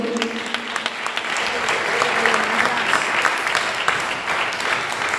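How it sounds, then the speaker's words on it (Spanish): A church congregation applauds during a sermon, producing a dense, continuous wash of clapping from many people that stays loud and even throughout. "Un fuerte aplauso al Señor"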